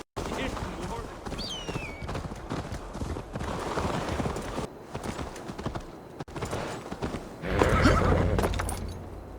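A horse in Assassin's Creed Valhalla whinnies and its hooves clip-clop steadily over continuous game ambience, with a louder rumbling passage near the end and voices speaking in the scene.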